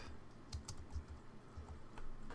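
Fingers type on a computer keyboard during Android app development, a quick run of soft, close key taps with no talking.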